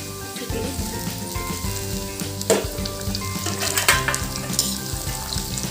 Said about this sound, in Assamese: এতিয়া মই ইয়াত দি দিম ডাল কচু কেইডাল